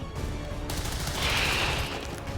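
Gunfire in the video game XCOM 2: a quick volley of close, loud shots, with a sharp burst and a bright whooshing impact sweeping through the middle.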